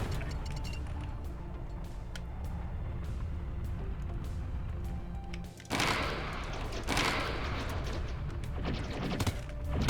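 Coil gun shots in the video game Devastator Bomber: a string of sharp, loud metallic cracks over a constant droning hum, turning into dense, noisy bursts and impacts in the second half, with no voices.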